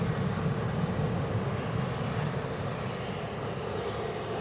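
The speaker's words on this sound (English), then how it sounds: "British Airways inbound from London Gatwick, an Embraer 190 standard, 10 years of age, is well into finals" British Airways Embraer 190 airliner on final approach into Edinburgh airport, a steady, fairly distant engine rumble and hiss that holds level and fades slightly, with no voices over it.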